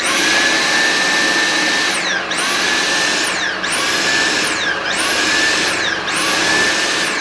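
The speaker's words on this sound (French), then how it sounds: "j'ai un petit souci avec mon aspirateur, il fait un bruit un petit peu bizarre" A Dyson vacuum cleaner runs loudly with a strange fault noise, its motor whine sweeping down and back up in four repeating cycles about every 1.4 seconds, close and alone with no talk.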